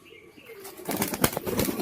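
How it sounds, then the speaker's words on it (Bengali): A tumbler pigeon's wings flap in a quick, rustling flurry, starting after a quiet moment and continuing loudly to the end. "দেখুন বন্ধুরা বাজির কোয়ালিটি দেখলেন এরকম বাজির পায়রা আমাদের কাছে পাওয়া যাবে"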